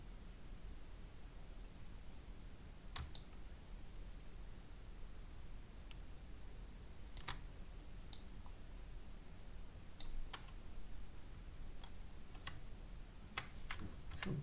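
Computer mouse clicks during 3D modelling in Blender, sparse, sharp single and double clicks scattered at irregular intervals over a steady low hiss, close and faint.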